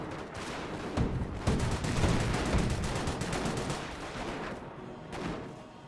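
Rifle grenades fire repeatedly in a Company of Heroes 1 battle, with loud rapid bursts and booming blasts packed together, then easing toward the end with no talking.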